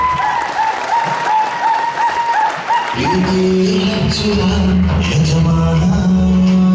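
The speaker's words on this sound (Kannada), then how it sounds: "ಸೊ ಜೋರು ಚಪ್ಪಾಳೆ ಬರಲಿ." A crowd applauds loudly and steadily at a speech event, a dense wash of clapping that continues as music swells in about halfway through.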